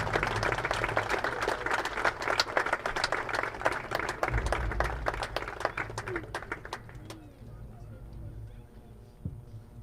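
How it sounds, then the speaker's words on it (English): Stadium crowd applauding before a high school football game, a dense steady wash of clapping from many people that fades out near the end. "can we give them a round of applause"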